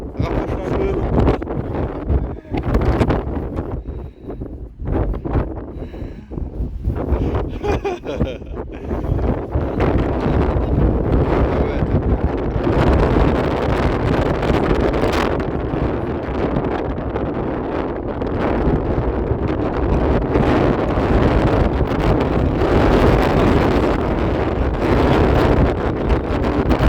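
Wind buffets a microphone outdoors at a mine site, a loud, rumbling, continuous roar that swells and gusts throughout. Speech is buried underneath it in the opening seconds.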